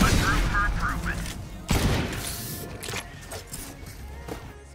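Gunfire in the video game Valorant: a loud opening burst followed by scattered shots and a sharp blast, fading under game sounds.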